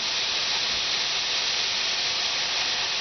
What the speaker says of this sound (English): while it is frying, you put a little oil in it